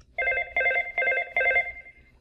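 A Cisco desk phone plays a ringtone preview: four evenly spaced electronic tone bursts, each a short warbling chord, clear and close with no talking.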